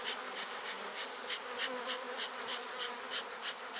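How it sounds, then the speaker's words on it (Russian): Honeybees in a spring hive form a dense, continuous buzzing swarm at close range, steady throughout with slight pulsing, and no voices present. "Пчел, сильная семья, видите, сколько?"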